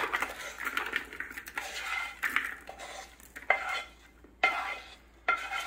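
Cooled cooked vegetables for turkey stuffing are tipped and scraped into a bowl, giving soft clattering bursts, utensil taps and shuffling, close and fairly quiet, with short pauses between.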